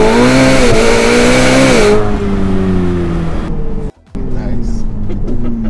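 A Ferrari F8 engine is heard through its muffler, holding a loud, close, droning rev that rises and dips slightly, then briefly cuts out before resuming. Voices can be heard in the background.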